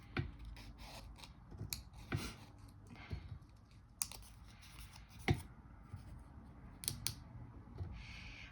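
Scissors trim paper for a Valentine card with quiet, close snips and crisp cuts, spaced irregularly over a soft background.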